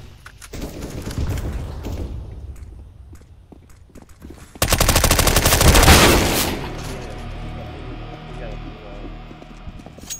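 Gunfire rattles through a Realm Royale match: scattered shots at first, then a loud, sustained, rapid automatic burst in the middle that tapers into fainter fire and ambient game noise, with talk heard alongside.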